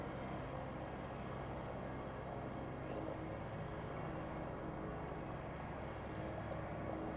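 Simulated Piper Arrow III engine running at full power for takeoff in X-Plane 11, a steady broadband propeller drone heard from inside the cockpit, with a few faint clicks.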